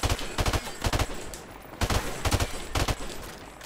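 Rapid gunfire from the PlayStation 4 game Call of Duty: Modern Warfare, coming in several loud clusters of quick shots separated by short gaps, with no talk over it.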